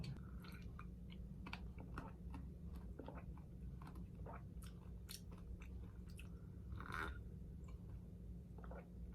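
Oats are chewed close to the mic in a quiet room, with soft repeated crunching and moist bites in an irregular rhythm over a low steady hum.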